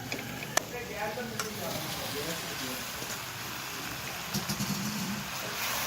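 Macaroni being stirred into a cooked egg omelette in a hot pan over the stove, with a soft, low sizzle and faint scraping of the spoon continuing quietly throughout.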